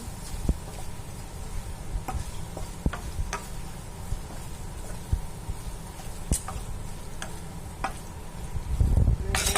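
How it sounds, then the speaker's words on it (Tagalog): Carrots and onions sizzle softly in a pan while a utensil stirs them, giving scattered scraping clicks over a constant low frying hiss. "Lalagay na natin yung carrots, tsaka bakdunis. Ayan, haluin lang natin."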